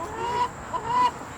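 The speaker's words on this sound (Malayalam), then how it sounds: "കോഴി വരെ വർത്താനം പറയുന്നുണ്ട് നമ്മുടെ അടുത്ത്." A chicken clucks close by at a home during an Onam celebration, giving a few short throaty calls over a quiet background.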